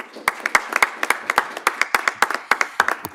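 Applause from an audience at a city event on the future of work, heard as a steady run of sharp, distinct hand claps from a small crowd, fairly close and loud, with no talk.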